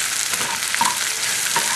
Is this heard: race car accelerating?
no